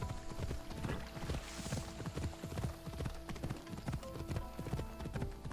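A horse's hooves clip-clop steadily in the video game Assassin's Creed Odyssey, a close, even galloping rhythm that runs continuously through the clip with no voices over it.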